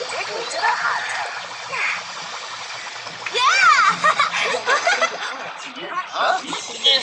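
Water splashing in a hot tub in the My Talking Tom Friends 2 video game, light splashes mixed with squeaky cartoon character voices and giggles.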